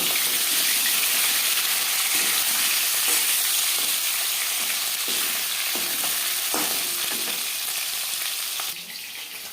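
Pieces of fish fry in hot oil for a curry with potato and cauliflower, a loud continuous sizzle with crackling bursts and occasional stirring scrapes, easing off near the end.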